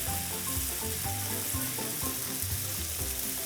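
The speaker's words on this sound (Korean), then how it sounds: "이 끓는 기름에다 간장을 부어주는 거예요." Soy sauce hits hot oil in a pan while cooking a garlic-heavy chicken stir-fry with shishito peppers, giving a steady, loud, close sizzle and crackle throughout with no talking.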